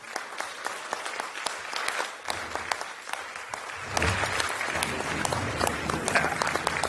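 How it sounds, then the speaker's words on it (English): Warm audience applause at a Prince Hall Slavery Remembrance Day program, starting moderate and swelling louder and denser about halfway through as more of the crowd joins, with steady sustained clapping. "I think that President Biden hears your warm, heartfelt applause."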